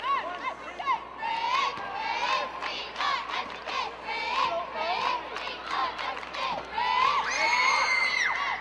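Crowd at a 2007 high school boys basketball game between Shawnee and Harrah at the Ford Center, with shrill cheering, shouts and whoops rising and falling in waves and young voices yelling close by.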